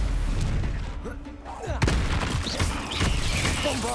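A Stupefy spell is cast in the video game Hogwarts Legacy, giving a sharp magical blast that cuts through a busy stretch of combat effects, with whooshing bursts around it.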